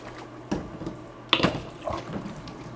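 Air bubbles rising through the water jug on a new refrigerator's water dispenser, after a fixed leak, giving soft gurgles and water sloshing with a few louder bubbling bursts, close and fairly quiet.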